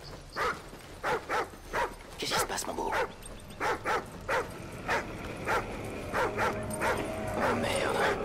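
Riley, a dog in the Call of Duty Ghosts campaign, gives a run of short, evenly spaced barks with yips and whimpering, close and fairly loud, while someone speaks French over a low game soundscape.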